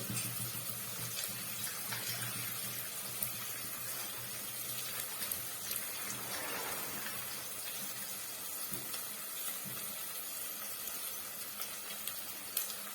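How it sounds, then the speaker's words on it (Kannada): Milk poured into a cooking pot gives a soft, steady liquid pour with a faint hiss, quiet and continuous for several seconds. "ಒಂದು ಪಾತ್ರೆನ ಇಟ್ಕೊಂಡಿದ್ದೀನಿ ಹಾಲು ಹಾಕೋತಾ ಇದ್ದೀನಿ"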